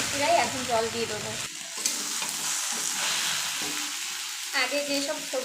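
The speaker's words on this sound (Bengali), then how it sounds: "সবজি ভাজা হয়ে গেছে প্রায়, এখন জল দিয়ে দেবো।" Close, steady sizzle of vegetables frying in a pan, broken by scraping stir strokes at the start and again near the end.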